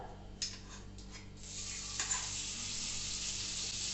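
Butter melting in a pan for a cream sauce, a steady broad sizzle that swells after a few soft taps and stirring clicks, continuous and close with a low hum beneath.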